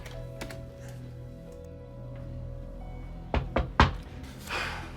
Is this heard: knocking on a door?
yes